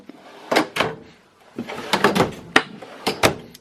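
Cabinet doors and drawers in a 2018 Jayco Precept 36T Class A motorhome are shut one after another, several sharp knocks and clattering thumps in uneven bursts separated by short quiet gaps.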